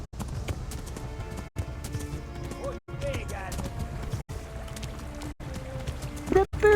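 A horse's hooves clop in a steady gallop in the medieval video game Kingdom Come: Deliverance, with game sound and a voice talking over the rhythmic beat.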